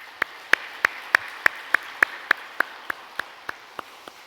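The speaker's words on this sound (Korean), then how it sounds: "우리 한번 격려의 박수를 같이 해보겠습니다." Regular, evenly spaced single claps, about fourteen sharp hits in a steady rhythm, moderately loud in a reverberant church hall during a Sunday service, more like one pair of hands than a full congregation.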